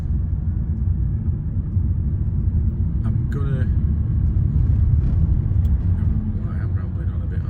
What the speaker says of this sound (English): But look at traffic here.